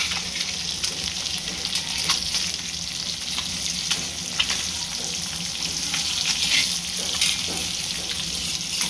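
Pieces of fish fry in a pan with a steady, close sizzle and crackle, broken by a few small pops and the faint clink of stirring.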